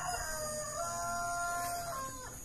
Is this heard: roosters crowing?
yes